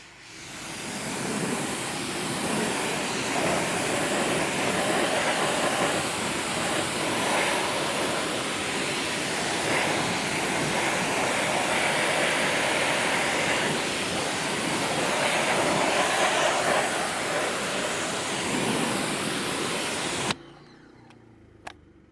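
A strong jet of water rinses dirty BMW wheels after a non-acid cleaner, a loud steady hiss and spatter running for about twenty seconds before cutting off abruptly, then a brief clunk.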